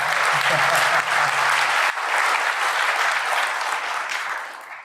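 A large conference audience at DEF CON claps steadily, loud and full, with the applause tapering slightly toward the end; a faint voice is briefly present early on.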